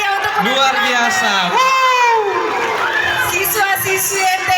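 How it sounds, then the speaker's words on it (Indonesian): A school crowd of students cheers and shouts at an Independence Day celebration, loud excited children's voices and whoops filling the whole stretch, with an adult voice over the noise. "Tepuk tangan dulu yang meriah"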